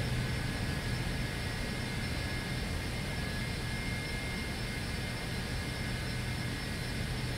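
Embraer ERJ-135 jet engines in a flight simulator game, a steady broadband roar with a high whine that holds evenly and loudly throughout.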